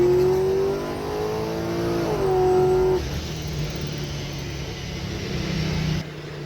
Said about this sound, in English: The blowers are extremely loud, and they seem to be pretty efficient at this power level.